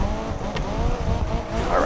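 McLaren 570S Spyder drifting in the Need for Speed Unbound racing game, engine droning steadily with tire squeal rising near the end, loud and continuous under background speech.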